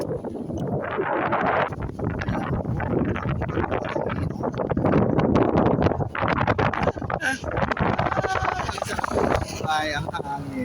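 Gusty wind buffets the microphone with rough, rumbling noise throughout, while a voice speaks intermittently.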